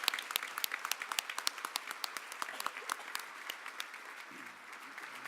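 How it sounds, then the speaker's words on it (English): Crowd applause at a MindShare event honoring its sponsors: crisp, sharp claps from a moderately sized audience, dense at first and gradually thinning out over several seconds. "Let's give one final round of applause to all of our sponsors."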